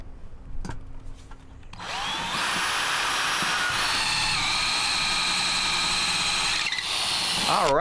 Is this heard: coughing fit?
no